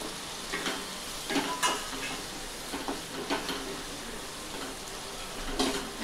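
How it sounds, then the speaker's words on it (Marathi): Onion added to dhaba-style masala okra frying in a pan over a low flame. It gives a continuous soft sizzle, broken by several scraping stirs and brief louder crackles, close up, with no voices. "आता हा कांदा घालून घेऊ याच्यात"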